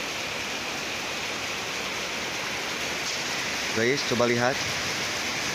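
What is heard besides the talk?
heavy rain pouring during a thunderstorm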